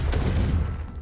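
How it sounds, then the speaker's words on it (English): A Confringo blasting spell cast in Hogwarts Legacy gives a dense, loud, low rumbling burst that fills the whole second and fades slightly toward the end, with no voice. "Confringo."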